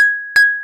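Two bright clinks of drinking glasses touching in a toast, the first fading as the second strikes, leaving a clear ringing tone that lingers; close, loud and alone with no voices.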